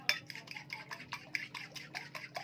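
A spoon stirs a spice mixture with half a spoon of black pepper in a bowl for a fried chicken coating, giving a quick series of close, rhythmic scraping clinks against the bowl.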